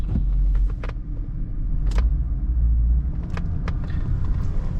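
Muffled low rumble of a 1987 Lincoln Town Car driving, heard from inside the cabin, with a steady drone punctuated by several brief clicks and bumps.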